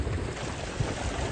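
A small sailboat cruises at speed under steady wind, giving a constant rushing wash of water and wind noise with no talking.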